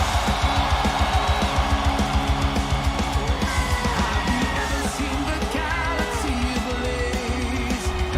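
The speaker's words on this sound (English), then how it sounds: "Let me hear those screams for Escalada" A wrestling arena crowd screams, yells and cheers loudly and continuously, a dense mix of high shrieks and whoops.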